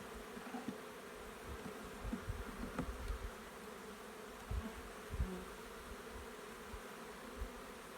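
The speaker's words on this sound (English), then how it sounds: "all the bees are actually off the frame on the back of the box" Honey bees drone steadily in a mating nuc box, a faint continuous buzz with a few light knocks and handling sounds, no voices.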